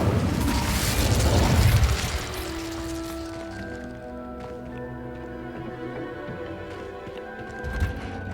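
A rushing burst of flame from the Incendio fire spell in Hogwarts Legacy, loud for about two seconds, then fading into lingering ringing tones and a soft later thump.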